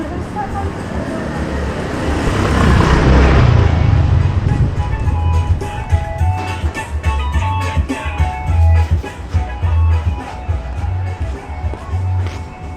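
Motorcycles and cars stream past on an evening rush-hour street by Pasar Petojo Engklek in Jakarta, a steady, dense roadway rumble with engines passing one after another close by.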